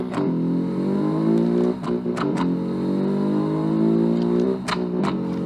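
A rally-style coupe built in the Automation car game revs hard and launches from a standstill, with a loud, steady engine drone climbing in pitch through the gears and a short dip at a shift.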